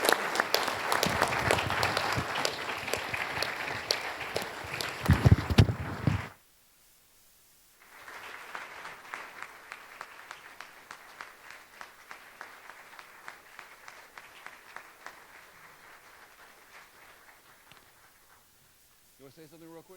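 Applause from an audience at a panel event rolls on loudly, cuts off abruptly, then resumes more softly and thins out, with some voices mixed in.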